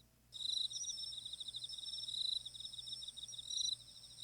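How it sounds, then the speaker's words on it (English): Looping cricket chirping from the Corpse Party: Book of Shadows video game, a steady high buzzing trill that starts abruptly, pulses continuously for several seconds, then cuts back briefly before resuming, with no voices. "these crickets, you hear them, and then they're so quiet, and then they repeat the fucking sound effect"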